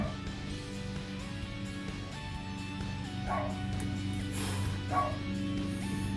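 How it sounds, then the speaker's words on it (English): Dogs bark and yip in the distance, in scattered bursts over a low steady background hum. "You guys can probably hear the dogs. They're going absolutely crazy."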